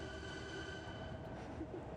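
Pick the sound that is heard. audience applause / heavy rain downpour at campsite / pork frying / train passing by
train passing by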